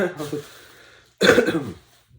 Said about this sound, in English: I apologize for any coughing or anything